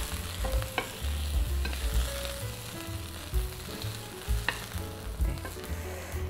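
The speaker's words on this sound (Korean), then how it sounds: "요 뒤쪽도 이렇게 노릇노릇하게 구우시면 됩니다." Chicken wings pan-frying in oil until golden, a steady loud sizzle broken by scraping and stirring against the pan, with no talking.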